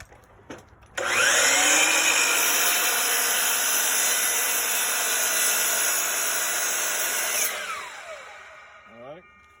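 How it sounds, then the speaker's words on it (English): A power saw cuts a notch into a 43-inch wooden post, a loud steady whine that starts abruptly and holds for several seconds before winding down, with faint handling noise at either end. "So go ahead and make the notch, the saw."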